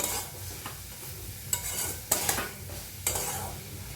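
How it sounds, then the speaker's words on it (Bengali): Chicken with spices and grated ginger being stir-fried in a pan, a low sizzle under scattered scrapes and clinks of a spoon on metal, with a few sharper knocks, close and fairly quiet. "দিয়ে আমি ভালো করে কষিয়ে নেব এইভাবে।"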